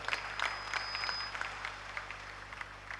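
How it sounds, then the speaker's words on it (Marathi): Faint, scattered clapping from a kirtan audience at a Tukaram katha gathering, quiet and sparse, with distant background hum. "त्यांच्याकरता एकदा टाळ्या वाजवा सर्वांनी जोरदार"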